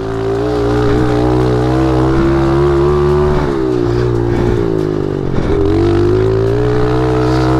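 A dirt bike motorcycle engine runs close by on a trail, a loud steady drone with shifting pitch and a brief dip and stutter before resuming its throttle hum.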